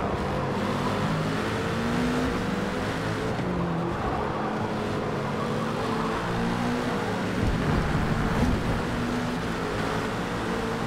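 A KTM race car accelerating in a GT endurance racing game, its engine a continuous, loud, steady roar that drones without break, with no voices present.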